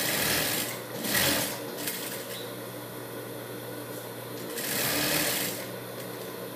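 A sewing machine runs steadily while stitching the sides of a fabric duck-bill protective mask, a close, even mechanical whir that surges louder in two bursts, with no talk over it.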